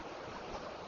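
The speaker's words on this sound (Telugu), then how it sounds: "ఆ వాటర్ ఫ్లోయింగ్ కూడా చాలా బాగుంది అసలు రాళ్ళ మీద." Water rushes steadily over rocks near the Dindi Dam, a brief, faint, even wash of noise with a slight breath of wind and no voices.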